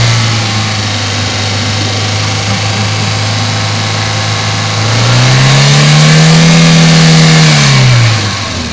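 A car engine runs loudly up close, idling steadily and then revving up under the throttle and holding high revs before dropping back, while the vehicle is still cold, with no voices.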